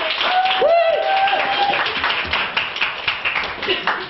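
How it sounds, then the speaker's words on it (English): Applause and clapping from a university audience at a candidates' event, starting with a whoop and continuing as a steady burst of hand claps that thins out toward the end, close and fairly loud. "A huge round of applause for Martin."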